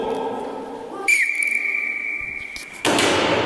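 A referee's whistle at a frisbee target match blows one sharp, sustained blast of about two seconds, loud and close, followed by a burst of crowd or field noise.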